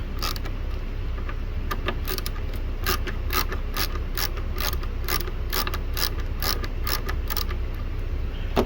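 A T25 bit turning a hex screw on the rear signal and brake light of a 2013 VW Tiguan gives a steady run of close, crisp ratcheting clicks, repeated without a break.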